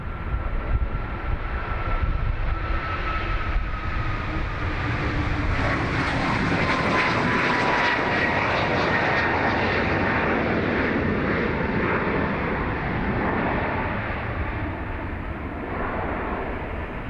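A TBM turboprop aircraft at Dublin Airport gives a steady, loud engine roar that holds for the whole stretch, with a faint whine rising and falling across it and no voices.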